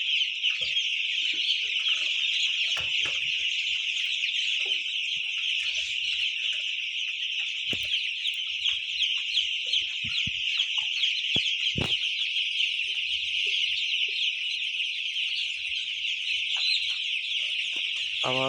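Dense, continuous clucking and chattering of many chickens on a poultry farm fills the space steadily, a loud flock sound with occasional sharper calls poking through.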